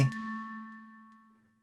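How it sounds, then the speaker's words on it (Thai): A single bell strikes in the Incredibox The Depths music game, ringing as one clear tone that fades away smoothly over about a second and a half. "ขอฟังเสียงระฆังเลยฮะ"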